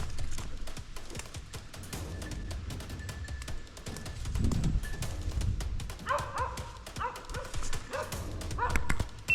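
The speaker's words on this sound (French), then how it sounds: "un chien est aux fermes" Hunting dog barking at bay at a wild boar during a bow-hunting drive in the Berry countryside, France; repeated barks and yelps come from a distance through steady outdoor background noise.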